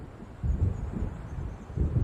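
Low rumbling thunder from an approaching storm in the Alan Wake game, rolling in soft, uneven swells beneath a faint wind-like hiss.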